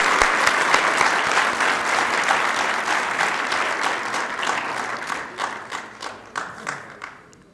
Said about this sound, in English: So everybody, a big round of applause for all of those people again.